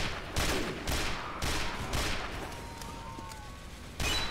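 Gunfire from the Team Fortress 2 video game sounds as a series of loud, evenly spaced shots aimed at a sniper, with lighter game effects and faint tones between the blasts.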